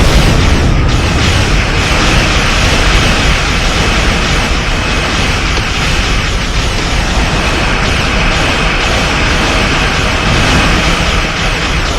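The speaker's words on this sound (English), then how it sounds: "More torpedoes for you." Torpedo explosions in Star Trek Online space combat, a dense, continuous roar of blasts and rumbling booms, loud and unbroken throughout with no speech.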